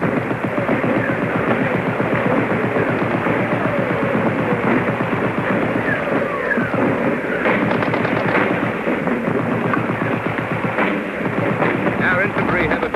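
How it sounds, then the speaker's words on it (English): WWII battlefield near Caen with artillery putting down a concentration behind a wood, a dense, continuous roar of gunfire and shelling on an old, hissy recording, steady and loud throughout with no voices. "The artillery is putting down a concentration behind the wood"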